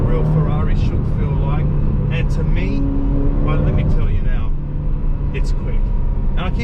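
A 2020 Ferrari Portofino's engine revs and pulls hard in a steady, loud, close-up drone recorded from inside the car, with a voice talking briefly over it.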